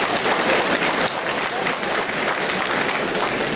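An audience at a lecture hall talk applauds, a loud dense wash of clapping that continues steadily from start to end without letting up.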